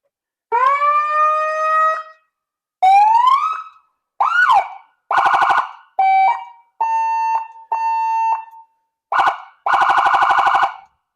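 A loud, close fire truck siren cycles through several patterns: rising wails, quick yelps and steady electronic tones, each separated by short pauses, at Pachaug State Forest.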